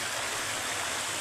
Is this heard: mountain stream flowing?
yes